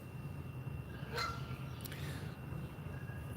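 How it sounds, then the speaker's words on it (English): A few geese honk at a distance, with a couple of brief, faint calls standing out over steady outdoor background noise. "They bark or do whatever gooses make for noises."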